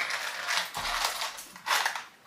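A pack of long and short screws is handled, rattling and clinking in short metallic bursts with a brief plastic crinkle. The sounds are close and moderately loud, with no one speaking.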